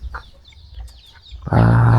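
Chickens on a farm kept alongside ducks cluck and call, faint scattered clucks at first before a loud close burst of squawking takes over at the end.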